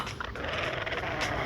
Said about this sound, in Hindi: अरे ये डोडो क्यों भौंक रहा है?